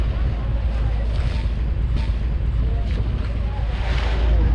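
Steady wind and water rush from a boat moving over the Arabian Sea off Mumbai, with waves and a constant low engine-like rumble throughout and faint speech underneath.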